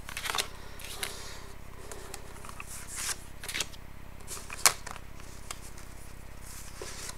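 Oracle cards being shuffled for a cross-shaped five-card reading make soft, close riffling and patting sounds in scattered bursts over a low steady hum.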